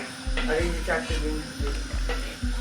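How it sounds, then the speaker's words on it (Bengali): Cashews, raisins, cinnamon, cloves and cardamom fry in oil for fried rice, a continuous close sizzle running under a steady rhythmic low thumping and faint voices. "এই যে এখানে ভাজাভুজি চলছে ফ্রাইড রাইসের"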